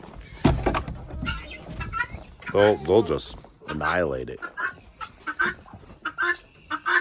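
Farm chickens cluck and squawk nearby in uneven bursts, with a few drawn-out calls, while someone talks over them.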